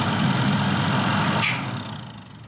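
An extractor fan in a loft-conversion en-suite whirs steadily and fairly loud, a continuous hum that fades somewhat toward the end, with no talking.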